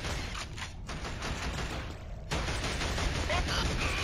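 Enemy gunfire rattles in the Killzone shooter, dense bursts of shots merging into a continuous roar with a brief lull before firing resumes loudly.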